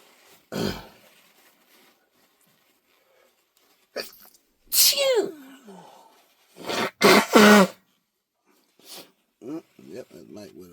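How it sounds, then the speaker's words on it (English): A person blows their nose in a few loud, wet honking bursts separated by quiet pauses, with some short vocal noises mixed in. "Blow my nose a little bit."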